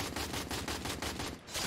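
Rapid gunfire in the Free Fire video game plays as a steady rhythmic burst of shots at a moderate distance, fairly faint and continuous for under two seconds, with no speech.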